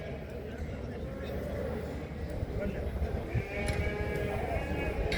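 Sheep bleat repeatedly over a busy outdoor livestock market in Çorum, Turkey, with people talking throughout and a few loud, close calls standing out.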